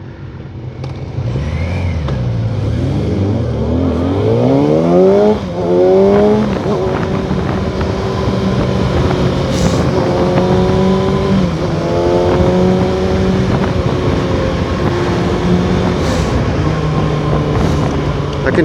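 A 2021 Kawasaki Ninja motorcycle engine revs loudly up and down, with rising and falling pitch sweeps over a steady roar, as at an outdoor demo day with other bikes nearby.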